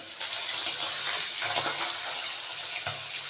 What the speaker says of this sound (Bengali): এখন আমি একে একে মাছগুলো ভেজে নেব